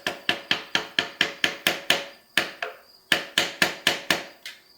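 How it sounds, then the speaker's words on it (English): A hammer strikes a screwdriver to knock out a seal from a 1990 Dodge Ramcharger transmission, a run of about a dozen sharp, evenly spaced metallic blows close to the microphone, a short pause, then several more strikes. "got my screwdriver, my hammer. We'll see if we can get this seal out of here real quick"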